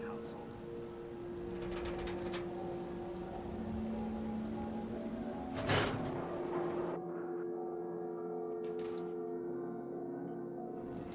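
Steady rain falling on surfaces in the game Fallout 4, a continuous hiss of drops with a brief louder burst midway, after which the sound thins out.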